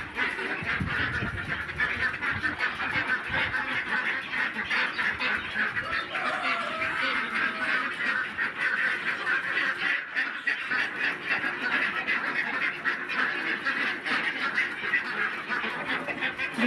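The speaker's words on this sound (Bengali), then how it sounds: "হাঁসগুলো ঢুকতেই চাইছে না, সব খাবে বলে।" A flock of ducks quacks constantly and noisily as they are herded into a shed before feeding, the calls overlapping in a dense, restless chorus with no talk.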